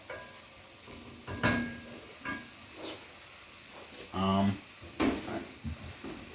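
Lo mein ingredients sizzle and scrape in a pan as they are stirred, with intermittent clattering bursts of utensil against metal, close by, and a voice talking at moments.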